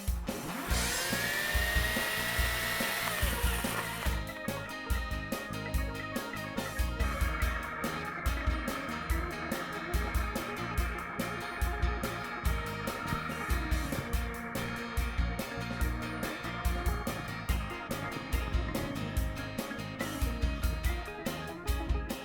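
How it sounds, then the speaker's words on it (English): A corded electric chainsaw cutting into protective chainsaw chaps gives a steady, continuous motor whine with a shifting pitch at the start, running evenly without speech throughout. "we're gonna take this corded saw and put it to the test next"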